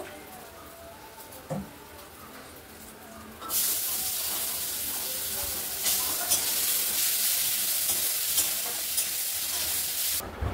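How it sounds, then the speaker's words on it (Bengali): Eggs fry in a pan in a home kitchen, a quiet start giving way to a steady, close sizzle and hiss with occasional stirring scrapes throughout, no talk. "আর ডিম ভাজা হবে, কাকিকে বললাম যে একটু ডিম ভাজো"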